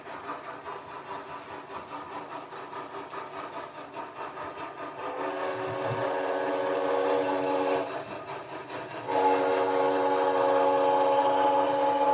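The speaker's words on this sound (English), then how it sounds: "don't like that whistle whatsoever" A steady mechanical rumble from an HO-scale model train runs under a sustained steam-style whistle that sounds twice, the second blast longer and louder.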